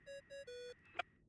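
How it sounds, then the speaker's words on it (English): A phone ringtone from a video game plays as a short, tinny electronic melody of a few sustained beeping notes, followed by a brief chime-like blip, fairly quiet and with no voices. "I really hate that ringing tone."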